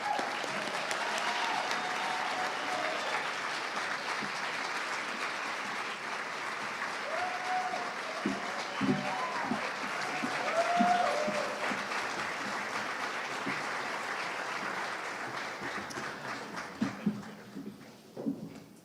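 An audience at the Oklahoma governor's debate applauds the candidates as they take the stage. The clapping is sustained and dense for most of the stretch, then thins to scattered claps before fading out.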